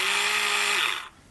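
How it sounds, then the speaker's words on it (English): A power drill fitted with a larger bit runs at a steady high whine while working on a model ship, then winds down and stops near the end. "second change is I've put in the next size up drill bit"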